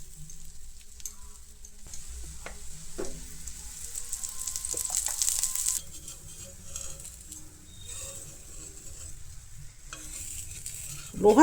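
Rice and dal being stirred in an iron tawa, a soft scraping and gentle sizzle that keeps up steadily at close range, with a louder scrape right at the end.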